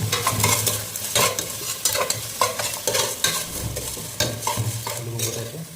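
Mutton curry ingredients are sautéed in a pan, with a continuous loud sizzle and frequent scraping and clattering strokes of a spoon stirring them.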